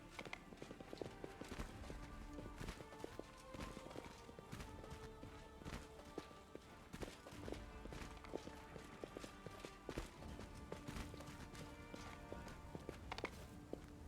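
Horse hooves clip-clop steadily in Pathfinder: Wrath of the Righteous, a continuous rhythmic trotting mixed with dense game music and ambience throughout.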